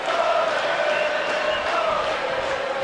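A steady, loud arena crowd roars and cheers for Sami Zayn in the wrestling video game WWE 2K19, a continuous wash of noise with no breaks.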